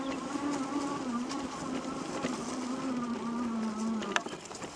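An ECLIO F02 moped-style electric bike motor climbing uphill through tall, damp grass, a steady close whine that wavers slightly under load, with faint rustling and a sharp knock near the end.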